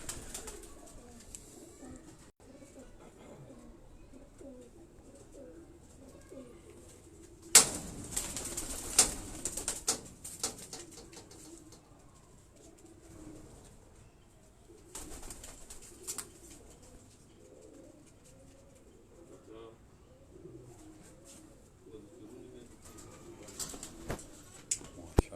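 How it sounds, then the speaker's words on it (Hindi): Green-necked Nag breed pigeons cooing softly in a quiet rooftop setting, with low repeated coos throughout and a couple of brief louder rustling bursts like wing flaps. "ये जो नाग ब्रीड के नाम से उनके ये सब्ज़ गले वाले कबूतर हैं"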